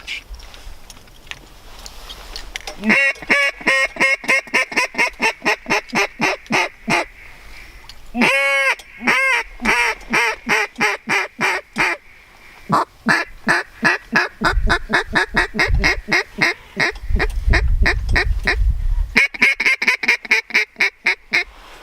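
Repeated loud goose-like honks and quacking calls from waterfowl during a public-land hunting trip, coming in rapid rhythmic bursts for most of the stretch with a short pause, close and dominant with no talk over them.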